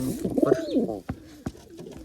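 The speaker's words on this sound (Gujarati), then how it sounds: "આવી રીતના કબૂતર બેઠું છે ઉપર" A pigeon coos close by in a short rolling throaty call, followed by a couple of soft thumps, with no talking.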